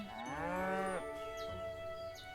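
A cow in the farming game Everdream Valley lets out a single drawn-out moo lasting about a second, close and clear, followed by quieter game ambience with no talking.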